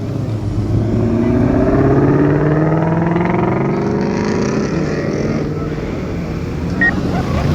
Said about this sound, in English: We got the new Shelby GT500 2020 leaving.